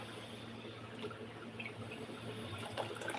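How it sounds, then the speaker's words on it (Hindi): Water pours steadily into a cooking pot while a fish and prawn curry is being made, a soft continuous splashing trickle at low level with no speech over it. "इसमें थोड़ा पानी डालूंगी, थोड़ा दूध का लूंगी उसको।"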